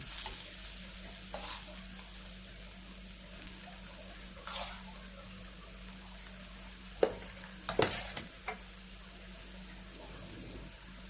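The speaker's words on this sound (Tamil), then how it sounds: "நான் இப்போ ரைஸை போட்டு மிக்ஸ் பண்றேன்" Rice being mixed into cooked carrots in a pan, a faint low sizzle under a few soft scrapes and knocks of a spoon, clustered mostly toward the latter half.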